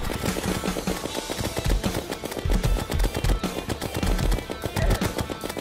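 Rapid automatic weapon fire from a Terraria battle on Expert difficulty, a dense, loud stream of gunshot bursts with thumping low hits, continuous over busy game sound.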